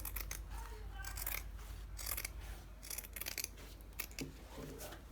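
Scissors snip through shawl collar fabric in a run of crisp, close cuts with short pauses between them, over a low background hum.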